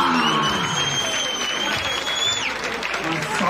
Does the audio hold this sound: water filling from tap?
no